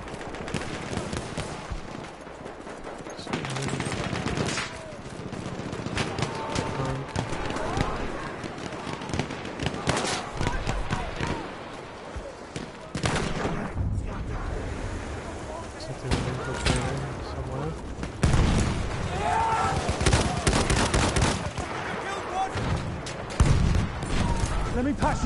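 Sustained Battlefield 1 gunfire, a chaotic mix of rattling automatic bursts, single shots and distant blasts running nonstop, with voices talking over it at times.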